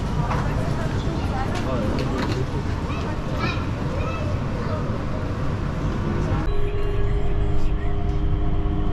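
The Changi Airport Skytrain in Singapore arrives with a steady mechanical rumble and hum, and a brief tonal whine rises near the end while people talk nearby.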